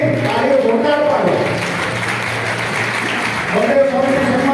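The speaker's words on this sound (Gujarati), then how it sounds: "તાળીઓ જોરદાર પાડો." A crowd at the Swaminarayan Shakotsav festival in Dabhan claps in a sustained burst of applause, steady and fairly loud, under and between someone speaking into a microphone.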